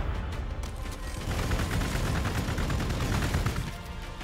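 Dense, continuous gunfire from a Warhammer 40k Gladius battle, a steady crackling barrage that swells in the middle and holds loud for several seconds.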